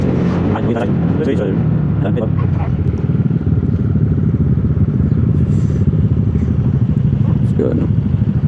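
Motorcycle engines rumble loudly and steadily on a mountain road in Atok, Benguet, with rattling and scraping underneath and voices talking over the noise.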